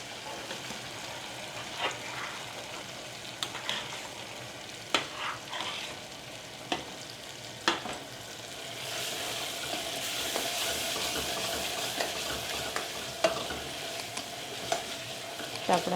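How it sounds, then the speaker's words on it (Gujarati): Tomatoes and chillies fry with spices in a pan, a soft continuous sizzle broken by scattered clicks and scrapes of stirring, with the frying swelling louder toward the end. "તો આપણે 2 થી 3 મિનિટ સાથે મસાલા સાથે કૂક કરીએ અને પછી પાણી નાખી દઈએ."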